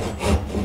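A hand saw rasps through wood while cutting a tenon for a joined stool, a single close, short stroke with a dry scraping texture.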